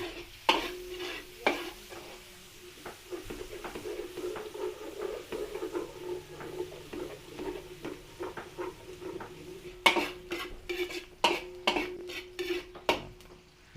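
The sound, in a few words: sautéing garlic and onion in a pan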